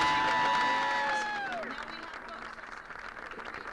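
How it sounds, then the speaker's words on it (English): A crowd of about 150 people at a downtown rally for an immigration proposal claps and cheers loudly, then the applause fades into lower crowd murmur, with a voice shouting over the start. "As the crowd cheers"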